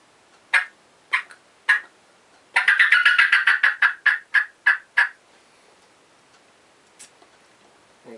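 Fly-down cackle of a wild turkey imitated on a diaphragm mouth call: a few spaced single clucks, then a fast run of excited sharp notes that slows and ends with scattered yelps, loud and close.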